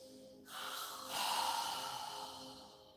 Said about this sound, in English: exhale with your mouth open wide. As you exhale, imagine that you're fogging a mirror